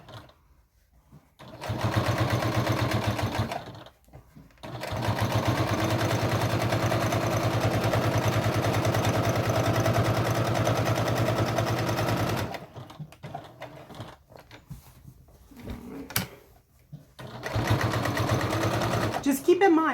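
Domestic sewing machine stitching fabric for a Valentine's Day placemat with a lengthened stitch setting, a steady close whirring run in several long bursts separated by short pauses.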